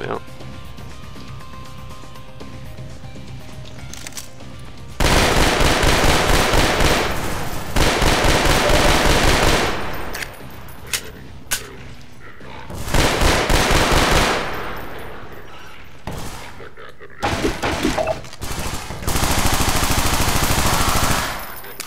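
Sentry guns in Half-Life 2 Episode 2 firing long, loud, rapid automatic bursts several times with quieter gaps between, close and harsh, with a voice speaking in the quieter moments.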